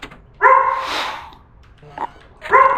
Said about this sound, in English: Got some barking going on.